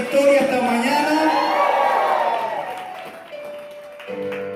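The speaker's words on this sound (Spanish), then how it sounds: "Denle un aplauso al Señor. Un grito de victoria esta mañana." A church congregation applauds and shouts in victory, a loud burst of cheering, whoops and clapping that swells at the start and then fades, with a sustained tone and voices lingering toward the end.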